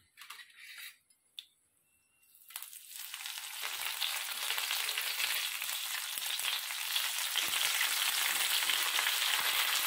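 Panch phoron spices crackle and sizzle in hot oil for a star fruit chutney (karamanga khatta). After a couple of quiet seconds with light kitchen clatter, a loud, steady, dense frying hiss sets in and continues, with no talking.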